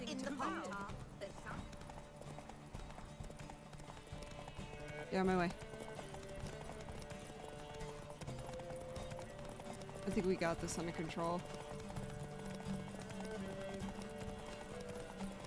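Horse hooves clip-clop steadily at a gallop while riding in The Witcher 3: Wild Hunt, running under continuous game music, with a brief whinny and someone talking over it.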